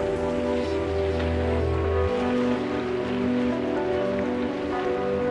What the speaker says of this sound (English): Still raining right now.